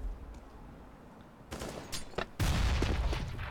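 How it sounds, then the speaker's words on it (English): A grenade blast in Counter-Strike: Global Offensive: quiet ambient rumble, then a sudden loud burst with crackling debris, followed by a second heavy, sustained boom that stays loud to the end. "Oh, what a nade went up top."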